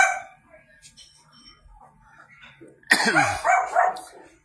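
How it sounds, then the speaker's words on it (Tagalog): A dog barks in a short loud burst near the end, following quieter speech and background sound, with a person talking nearby. "Hinahulan ako ng aso."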